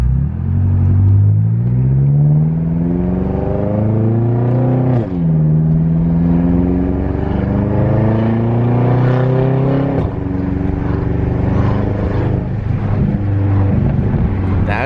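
A BMW M5's engine and exhaust rev repeatedly, each pull climbing in pitch before dropping back. The rises come in waves and sound loud and close, with a deep rumble between them.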